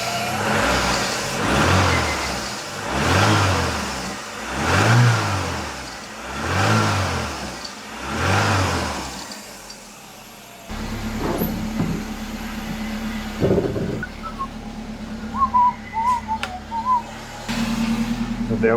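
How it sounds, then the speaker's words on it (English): Citroën CX GTi engine revving in several slow rising and falling surges, then settling to a steadier idle as it warms up, loud and close with no talk. "But it is running pretty decent once it fires up."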